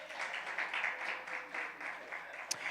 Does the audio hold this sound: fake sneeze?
no